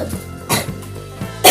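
A family member sick with flu coughs in short harsh bursts, three or four spaced coughs over a low steady hum, the last one loud and close.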